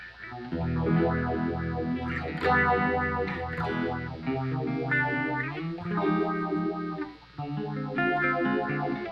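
Electric guitar run through a phaser effect pedal with a little drive, ringing chords and single notes carrying a slow swirling sweep, played alone and fairly close.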